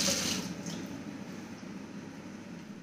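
Water pours steadily into a fish curry cooking on the stove, a continuous splashing rush that is loudest at the start and then settles into a softer, even flow. Nobody speaks.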